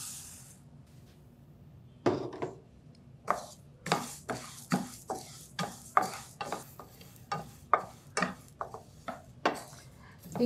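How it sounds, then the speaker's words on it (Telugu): Flax seeds roasting in a pan are stirred with repeated close scraping strokes in a steady rhythm, each stroke a short rasping sweep over a soft background hiss. "ఫ్లాక్స్ సీడ్స్ కూడా రోస్ట్ చేసేద్దాం."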